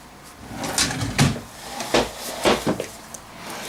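Wooden drawer pulled open and pushed around during a search at home, several close knocks and sliding scrapes in an uneven sequence, heard on its own.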